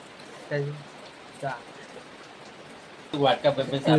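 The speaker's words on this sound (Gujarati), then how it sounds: "તમે જોઈ શકો છો ગાઈસ એક બાજુ વરસાદ ચાલુ છે" Rain falls steadily in an even, soft hiss that lasts throughout, while people talk intermittently over it.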